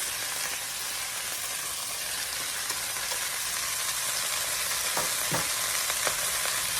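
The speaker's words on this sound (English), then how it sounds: "to the meat, I'm going to add our chopped onions" Beef fries in a pan with chopped onions mixed in, a constant close sizzle with a few sharp stirring knocks near the end and no voices.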